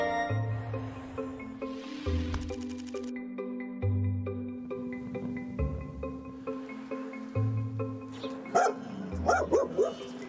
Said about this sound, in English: You keep barking, that's good.